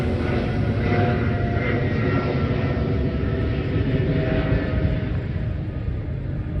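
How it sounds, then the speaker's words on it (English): A large airplane takes off, its engines making a steady, loud, broad rumble and roar that holds throughout without voices. "Look at that massive plane taking off."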